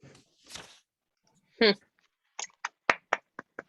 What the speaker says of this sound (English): I'm clapping so you can hear me.